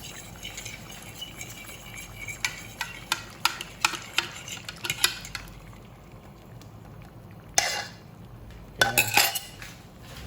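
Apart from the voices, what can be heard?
stirring blood into dinuguan in a pot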